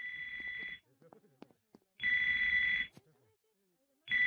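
A mobile phone rings from inside Joe's back in a cartoon scene, sounding as repeated shrill, steady electronic ring bursts separated by short pauses with faint sounds between them.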